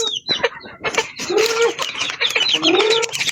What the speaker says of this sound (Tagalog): magpapakain na sa tatay ng manok guys